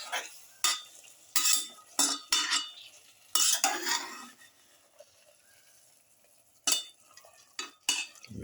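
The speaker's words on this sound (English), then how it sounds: "Mix in the lamb pieces" Lamb pieces stirred into a winter melon mixture in a bowl, giving irregular bursts of close scraping and clinking from a utensil against the dish, separated by quiet gaps.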